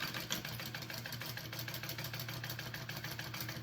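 Fast, even mechanical chatter of a sewing machine stitching a quarter-inch seam on a handbag strap, a steady rapid needle rhythm held close and fairly quiet, with no talking.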